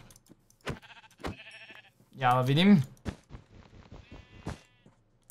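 A Minecraft sheep gives one clear wavering bleat in the middle, surrounded by game clicks and taps, with someone talking briefly before and after.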